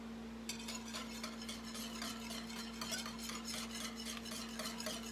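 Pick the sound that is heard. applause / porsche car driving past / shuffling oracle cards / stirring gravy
stirring gravy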